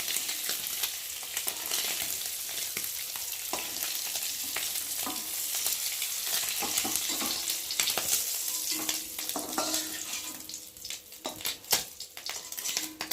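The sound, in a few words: frying eggs in a pan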